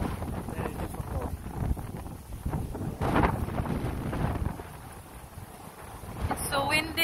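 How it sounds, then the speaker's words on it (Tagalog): Strong, gusty wind buffets the microphone throughout an outdoor walk on a cold, rainy day, a steady low roar with surges, and a person talks briefly beneath it. "It's so windy."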